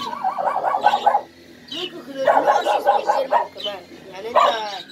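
Griffon and Lulu dogs barking in short, rhythmic bursts of yips and bow-wows, fairly close, with whimpering between volleys and a human voice faintly present.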